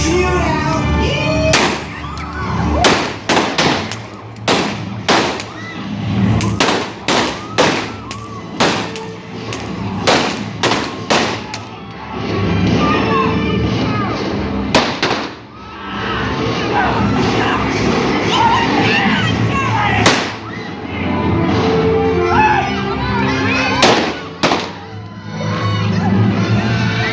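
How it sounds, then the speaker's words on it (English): Blank gunshots crack repeatedly during a Wild West show shootout, sharp loud bangs in irregular bursts, some rapid and some spaced, with crowd cheering and voices in between. "looks like we're gonna have us a shootout"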